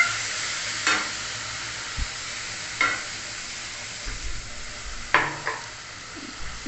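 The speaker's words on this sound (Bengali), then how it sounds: "সামান্য জল দিয়ে মশলাটাকে কষিয়ে নিলাম, দিয়ে দেব হলুদের গুঁড়ো।" Spice masala with turmeric powder and a little water sautéing in a pan for egg curry, a loud continuous sizzle broken by several sharp spatula scrapes.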